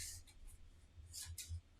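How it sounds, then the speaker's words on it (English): Cards being shuffled by hand into a deck during a solo Mysthea board game setup, a few short soft papery riffles and slides, close and quiet, with no talking. "we're going to shuffle it"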